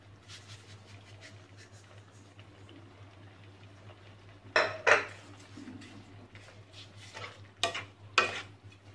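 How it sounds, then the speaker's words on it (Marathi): Bottle gourd halwa cooking with sugar in a pan, with a quiet low simmer, scraping stirring strokes and a few sharper utensil clinks against the pan, growing louder toward the end, no talk. "व्यवस्थित मिक्स करून घ्यायचं आहे"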